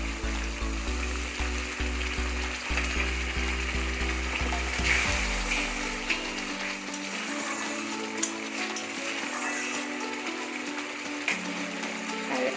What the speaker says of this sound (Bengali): আর ভালো রকমভাবে তেলের সঙ্গে মশলাটা আমি ভেজে নেব